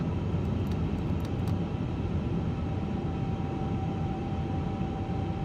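In a flight simulator, an Airbus A350 rolls for takeoff on runway 9 right at Orlando, its engines a steady, heavy roar with a faint high whine, broken by a few short clicks early on.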